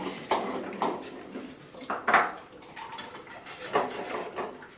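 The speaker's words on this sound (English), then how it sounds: "So you tip this in and give it a whisk" Lemon juice whisked into a mixture in a bowl for lemon creme, with irregular clinks and scrapes of a whisk against the bowl, close and moderately loud, a few separate bursts.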